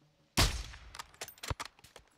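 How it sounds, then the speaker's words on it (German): Gunfire in the video game Call of Duty Modern Warfare 2: one loud, sharp blast followed by a scattered run of quicker, lighter shots and impacts that trail off, with no talking over it. "Volltreffer. Saubere Schüsse."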